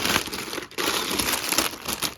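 Close, continuous crinkling of thin plastic LEGO parts bags being handled, with a brief pause midway.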